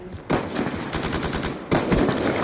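Rapid automatic gunfire in Black Ops 2, loud and sustained across the whole moment, with a heavier burst near the start and another toward the end, no talking over it.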